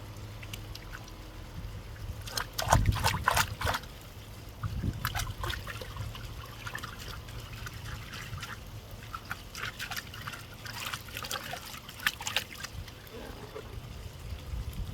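Water trickling and splashing while a gold pan is rinsed out at a sluice box, with uneven pours and dribbles in bursts over a low background hum, close by and moderately quiet.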